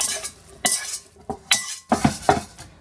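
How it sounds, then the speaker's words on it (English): A Caesar salad of pheasant, lemon juice and dressing is tossed in a bowl, with a few scraping stirs and light clinks of a utensil against the dish, near and fairly clear, without voices. "We're going to stir that salad together."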